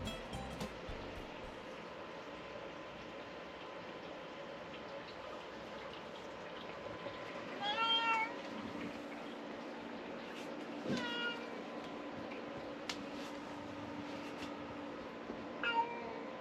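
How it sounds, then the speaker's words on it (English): A cat meowing faintly a few times in short rising calls, set against a steady watery background hiss, with no talking. "He's a cat."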